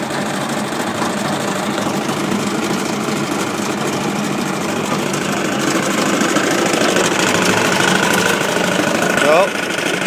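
A homemade BercoMac-style ATV snow blower's motor runs steadily with a patched drive belt turning, giving a close, dense mechanical drone that swells slightly louder near the end with a brief squeal.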